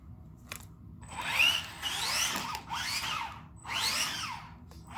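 A brushed RC car motor on a Hobbywing QuicRun 1060 ESC whines up to full throttle and then brakes, with rising and falling electric whirs repeated several times, close and fairly loud.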